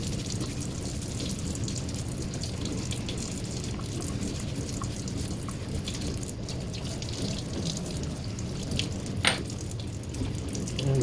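Warm water runs steadily from a tap while Johnson Century 115 fishing reel parts are being cleaned, a continuous splashing rush with occasional clinks and drips, close and fairly loud.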